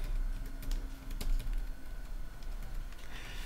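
Keys being tapped repeatedly on a Samsung NP 370 R laptop keyboard at startup, a quick series of sharp close clicks over a low steady hum.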